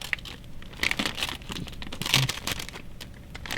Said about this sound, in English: let's go ahead and pull this out of the plastic baggie here